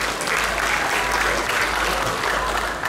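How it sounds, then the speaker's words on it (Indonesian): An audience at a high school band festival in Banyumas breaks into steady, dense applause that fills the hall at full strength from start to finish, with no voices standing out. "Tepuk tangan dulu buat teman-teman semua."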